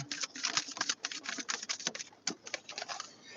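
Rain falling outdoors, a quick irregular patter of close drops tapping on a hard surface, with no talk.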